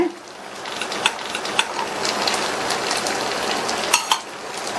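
Oil drizzled around stuffed potato paniyaram in a pan sets off a steady, bright sizzle and crackle, with occasional light clicks of a utensil against the pan.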